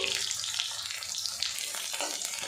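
Chopped garlic fries in hot oil in a pan, a continuous close sizzle with soft bubbling and occasional stirring scrapes, heard alone without talk.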